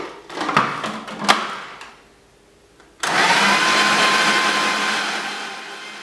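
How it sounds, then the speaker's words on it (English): Almonds being blended into nut butter: a few knocks and clicks, a short pause, then a blender motor starts abruptly and runs loud and steady, close by, easing slightly toward the end. "I'm going to wipe the blender on again."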